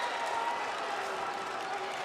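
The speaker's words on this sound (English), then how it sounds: "The crowd is standing and cheering." A basketball crowd at a high school jamboree semifinal, standing and cheering in a steady, dense roar with applause that holds at an even level throughout.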